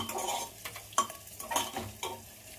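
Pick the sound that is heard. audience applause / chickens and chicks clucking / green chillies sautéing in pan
green chillies sautéing in pan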